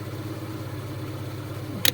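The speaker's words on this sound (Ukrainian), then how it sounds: "Зараз двигун працює на бензині." A car engine fitted with second-generation LPG equipment idles steadily on petrol with a low, even hum throughout, broken near the end by a brief sharp click.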